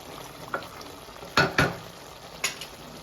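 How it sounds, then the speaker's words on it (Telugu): Pieces of goat head meat fry in hot oil with a faint, steady sizzle. A spoon scrapes and stirs the pot several times, making a few loud bumps. "ఒకసారి ఈ ఆయిల్లోనే మనం పీస్ అనేది ఫ్రై అవ్వనివ్వాలి"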